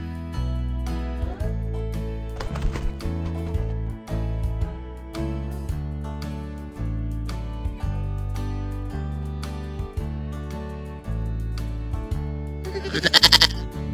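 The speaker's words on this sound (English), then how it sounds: "Goat." Cheerful children's music plays steadily until a cartoon goat gives a short, loud bleat near the very end.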